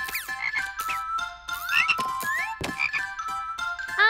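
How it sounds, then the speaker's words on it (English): A frog croaks repeatedly up close, in quick bursts mixed with chirping, warbling tones and no talking. "Hey, it's a frog."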